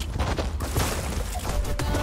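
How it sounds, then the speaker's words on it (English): Dense burst of gunfire in the Fortnite video game, rapid overlapping shots forming a loud continuous barrage throughout, with no talk. "Who is shooting me?"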